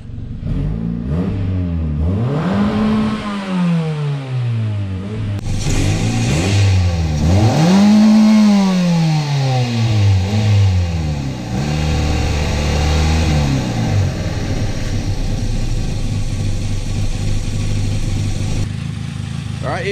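A car engine running on olive oil in place of engine oil is revved hard toward the red line in three rising and falling sweeps, then settles back into a steadier running drone.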